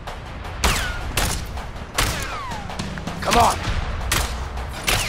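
An enemy shooting in the video game A Way Out: a handful of loud, sharp gunshots spaced a second or so apart, with someone briefly shouting between them.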